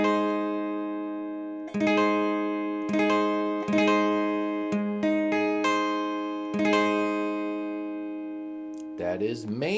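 A major chord on guitar is strummed repeatedly with bright attacks, interspersed with picked notes, ringing close and clear; a voice briefly starts at the very end.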